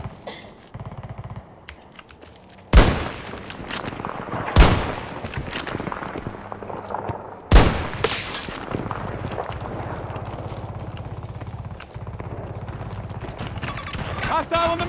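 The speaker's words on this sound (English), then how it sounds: "Getting shot at." Gunfire in the video game Battlefield: a few sharp, loud shots crack out at intervals over a low rumbling game backdrop, with scattered clicks between them.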